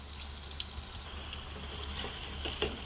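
Punugulu, fritters of idli batter, frying in oil in a small pan: a steady close sizzle and bubbling with faint occasional pops and clinks, no talking.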